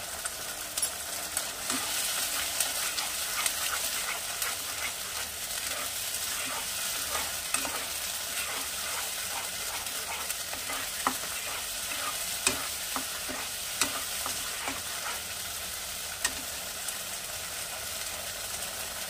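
Spices with salt, turmeric and chili powder are sautéed in oil for a Bengali boal fish curry, with a continuous sizzle and frequent clinks and scrapes of a spatula in the pan.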